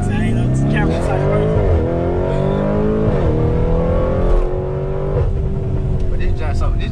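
A million-dollar all-wheel-drive car takes off with a loud engine roar that climbs in pitch through repeated gear shifts, close by, while people talk and shout around it.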